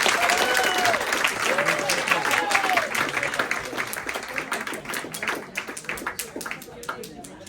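Audience applause at an annual lunch event at Ronnie Scott's jazz club in London, a sustained wash of clapping from a seated crowd that thins toward the end, with a faint voice calling out over it.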